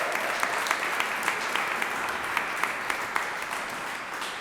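Applause for representatives at a Pride flag raising ceremony: a crowd claps steadily and fairly close, with sharp individual claps standing out over the sustained patter for the whole stretch.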